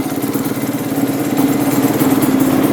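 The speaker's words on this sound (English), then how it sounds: "I've never heard a two-stroke 125 idle that low." A two-stroke 125 dirt bike engine idles very low and steady, a loud close continuous buzzing putter with no talking.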